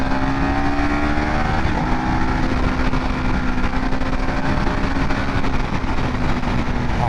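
A new 2022 Harley-Davidson motorcycle accelerates hard at road speed, its engine note loud and steady with rising harmonics under constant wind roar, and no one speaks.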